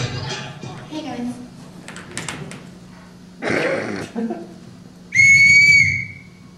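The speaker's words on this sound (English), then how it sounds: "That was my rape whistle." A personal safety whistle is blown once near the end, a loud piercing shrill blast of about a second, following a comedian's brief talk and some scattered noises at a comedy club.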